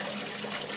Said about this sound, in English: the rate at which the water is being siphoned out